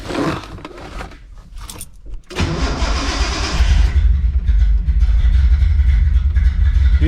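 A Datsun 240Z that had sat for three years cranks over and fires, its engine catching with a rising roar and then settling into a loud, steady rumble up close.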